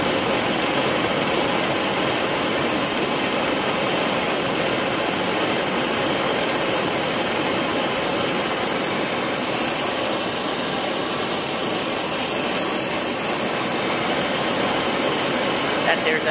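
A propane forge burner roars steadily at high pressure, a loud continuous broadband hiss and rush holding constant from start to finish with no breaks.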